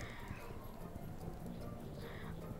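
Quiet hoofbeats of a large horse on a jumping course in Star Stable Online, soft and steady under a dense bed of game ambience, faint throughout.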